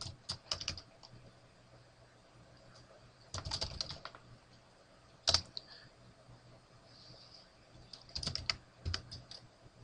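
Bursts of typing on a computer keyboard while writing Android code, with quick clusters of close, crisp key clicks separated by short quiet pauses and one sharper single tap.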